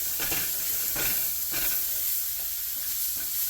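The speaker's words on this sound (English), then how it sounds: "Go ahead and give that a stir." Roughly chopped vegetables with jalapenos, frying in a pan for channa masala, are stirred with a few scraping strokes over a constant close sizzle.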